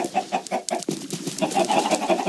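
Chickens cluck in the Minecraft video game, a series of short rhythmic pulses repeating steadily up close, with no talking over them.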